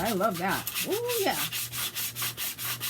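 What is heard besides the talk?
sanding a junk journal cover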